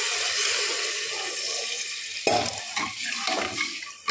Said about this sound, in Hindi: तो बस अभी इसमें पानी डाल देंगे,